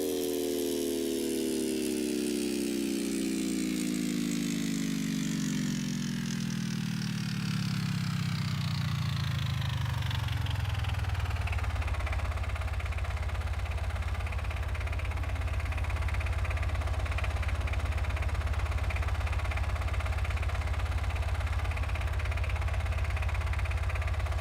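A motorcycle engine built in the Gearblocks video game winds down from a high rev to a steady, loud, low idle rumble that continues alone.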